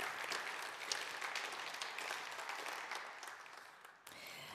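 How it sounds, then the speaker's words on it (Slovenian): An audience applauds an award-winning wood product at a Slovenian woodworking industry awards event, a continuous crackling spatter of many hands, fairly faint and distant, dipping briefly before picking up again. "še en velik aplavz za nadaljnje življenje vajinega produkta"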